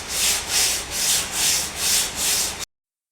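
Body filler on a Chrysler Valiant AP6 panel is sanded and feathered out by hand, six steady rhythmic rubbing strokes, close and even, then it stops abruptly.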